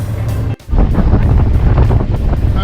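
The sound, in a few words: wind blowing while motoring on a boat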